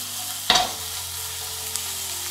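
Radish sautéed in a pan with spinach, a steady sizzle broken by one sharp clatter of stirring near the start and a faint tap later.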